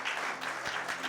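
A church congregation claps together in praise, a dense, steady wash of applause heard briefly from within the crowd.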